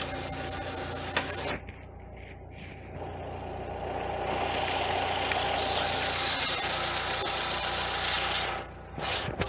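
A car engine idles steadily with its number 3 cylinder disabled, giving a continuous near rumble with a faint irregular roughness, holding level throughout and briefly dipping at the start and end.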